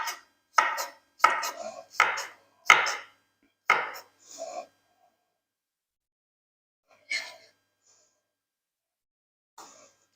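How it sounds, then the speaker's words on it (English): A knife chops a washed, skin-on English cucumber into small cubes on a board, in a run of close, crisp, evenly spaced strokes that stop, then return as two isolated cuts after a pause. "I'm just going to cut it into small cubes and again pop it on top."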